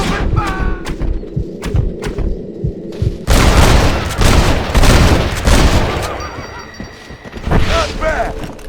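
Gunfire in Red Dead Redemption: loud, close shots crack in quick succession, then heavier booms and a dense volley of overlapping shots, with scattered distant pops.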